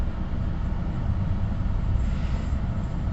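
A train passing nearby, heard as a steady loud low rumble with no breaks, likely recorded from inside a 2026 Nissan Rogue Rock Creek.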